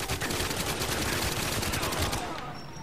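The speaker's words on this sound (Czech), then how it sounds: "někdo po mě střílí" Dense burst of rapid gunfire in the video game GoldenEye 007: Reloaded, loud and continuous for a few seconds before tapering off.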